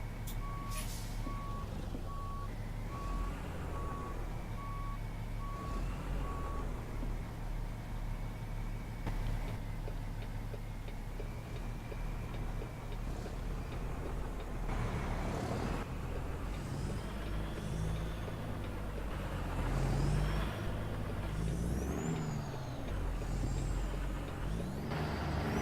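A heavy haul semi truck maneuvers its trailer out of a yard, with a steady reversing beep at first, a loud diesel engine rumble, and hissing air brake releases throughout.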